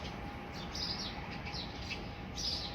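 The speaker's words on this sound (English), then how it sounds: "the birds are coming to this bush now" Small birds chirping around a garden bush, several short high tweets arriving in bursts at moderate distance over a steady outdoor hum, with no talking.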